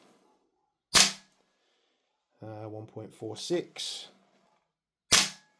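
Two sharp, loud cracks from a Salvo Precision MCX MWS gas blowback airsoft rifle firing 0.3 gram BBs, spaced about four seconds apart, with someone speaking briefly between shots.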